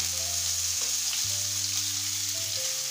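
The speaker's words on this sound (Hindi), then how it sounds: "जीरा के बाद मैंने इसमें हरी प्याज डाल दी है" Green onions and cumin fry in hot oil in a pan for dhaba-style paneer angara, a steady close hiss of sizzling that continues throughout, with soft background music underneath and no speech.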